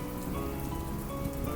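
Heavy rain pours down steadily in a horror video game set in Longchun, a dense, continuous hiss of downpour filling the scene at close range with no voices.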